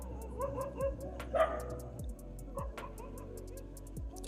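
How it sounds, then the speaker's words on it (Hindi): Several dogs bark and yip repeatedly in the background, moderately distant, in short irregular bursts, with faint human sounds mixed in beneath. "डॉगी बहुत सारे मेरे इधर तो वो भौंक रहे हैं"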